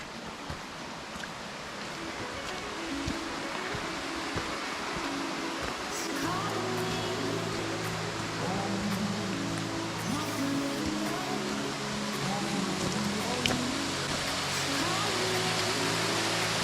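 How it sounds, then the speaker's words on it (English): A Black Forest waterfall rushes in a steady, broad roar close by, with tonal hum or voices faintly underneath in the latter half. "This would appear to be the waterfalls we were talking about"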